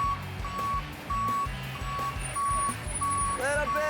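A cement truck backing up sounds a steady run of evenly spaced, high reversing beeps above a deep, continuous engine rumble, close and loud throughout.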